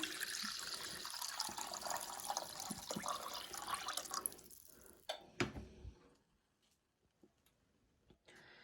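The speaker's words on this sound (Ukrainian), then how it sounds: "Водичку даю сюди." Water is poured into a pot holding homemade broiler chicken fat to start a broth, a steady splashing gush for several seconds that cuts off, leaving a few soft drips and clinks in a quiet kitchen.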